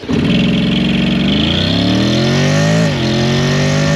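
A loud engine revs up close, pitch climbing, dipping briefly, then holding a high rough drone.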